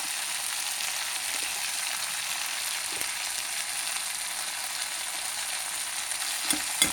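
Taro pieces and ginger garlic paste fry in a pan, giving off a close, steady, hissing sizzle throughout, with a couple of soft stirring knocks near the end.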